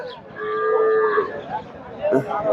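A single cow moos loudly and close by at the Chandaikona cattle market, a drawn-out low call with a rising, wavering tone, followed by softer bellowing at the end.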